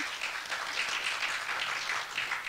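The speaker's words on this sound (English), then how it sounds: "We're all supposed to be quiet, but at the same time, we got to applaud also." An audience at a student poetry recitation competition breaks into steady applause, a dense wash of many hands clapping continuously throughout, fairly loud and with no voices over it.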